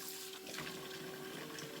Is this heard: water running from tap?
yes